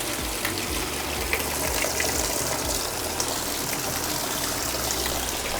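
A washing machine fills with water in a steady gushing rush that runs unbroken at moderate volume, with faint mechanical clicks underneath.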